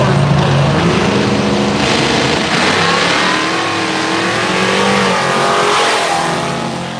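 No-prep drag race cars, including a 1972 Chevy Nova, roar continuously at an outdoor track, a loud sustained engine rumble with revving swells and no clear talk.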